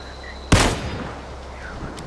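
Single sharp gunshot from a video game, one loud crack with a short decaying tail over faint background hum, no talking.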